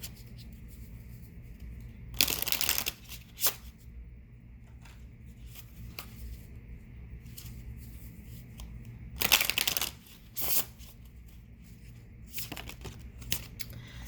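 Tarot cards being shuffled in a quiet room during a reading, with two short bursts of riffling and a third softer one, plus scattered faint taps and handling noises between them.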